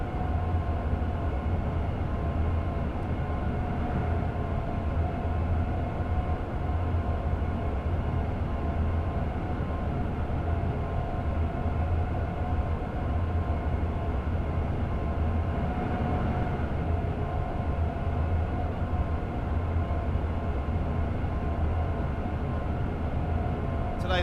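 A Class 377 electric train runs in Train Sim World 5, giving a steady, continuous rumble with a tonal motor hum that holds at an even level and never fades away.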